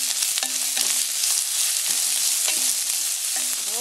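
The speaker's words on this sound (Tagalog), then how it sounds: "Lagay natin yung onion. So, hintayin lang natin maluto itong onion." Chopped onion sizzles steadily in a hot pan for a crab-in-coconut-milk dish, with a spatula scraping and stirring through it every half second or so, close and continuous with no talking.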